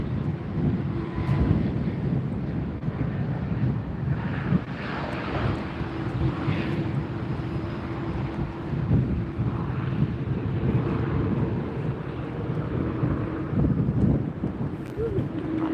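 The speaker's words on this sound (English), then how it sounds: "a lot of wind" Strong wind buffets the microphone at LAX airport, a steady low roar filling the whole stretch, with a distant jet rumbling beneath it and occasional gusts swelling the noise.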